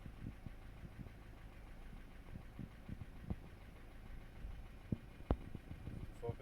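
A 2007 Ford Transit 2.4 TDCi diesel van idles steadily with a low, even rumble, a fault lamp lit and the engine unwilling to rev once warm; a few sharp knocks and clicks stand out over the running engine.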